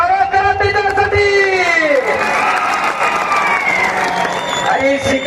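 A large crowd at a traditional kusti wrestling contest in Narayangaon cheers, whoops and claps for the wrestler Sikandar Shaikh. The roar is loud and sustained, with a voice calling out over the noise.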